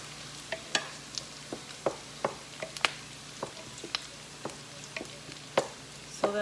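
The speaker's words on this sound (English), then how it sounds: "gonna have the sausage on low, simmering for now" Sausage simmering on low heat in a pan, giving a steady faint sizzle broken by regular small clicks and taps, close and quiet.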